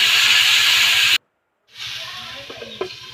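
Taro pieces dropped into hot oil with green chilies and cumin seeds, a loud steady sizzle that cuts out briefly, then resumes slightly quieter with a few clinks of utensils against the pan.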